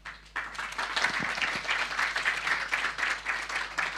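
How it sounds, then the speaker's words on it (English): An audience at a public talk breaks into steady applause to welcome a speaker, many hands clapping in a dense, sustained roll at moderate loudness, with no voices over it. "Let's welcome him with a round of applause"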